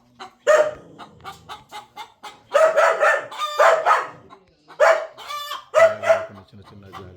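Chickens in a mesh coop on an agricultural farm at Peddakaparthy, Chityala Mandal, Nalgonda, give loud, close bursts of clucking and crowing-like calls separated by short pauses.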